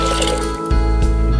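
Water pours into a pressure cooker holding chana dal, a steady close liquid rush that briefly dips and then resumes, with a tonal hum underneath.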